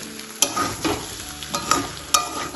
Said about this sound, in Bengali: এবার আমি পুরো আলুটার সাথে ডিমটাকে ভালোভাবে কষিয়ে নেব।